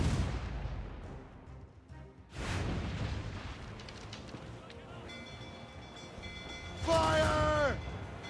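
Ship cannon fire in Assassin's Creed Rogue: heavy booming blasts roll out amid rumbling naval battle noise, with a loud burst near the end, while voices shout over the action.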